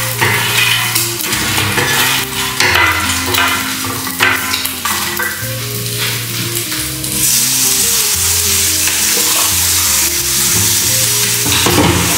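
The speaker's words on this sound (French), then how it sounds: "Je vais faire un œuf plat, c'est plus facile." A fried egg spits and sizzles steadily in a hot pan, with a dense continuous crackle and occasional light clinks of a utensil against the pan, close and loud throughout with no talking.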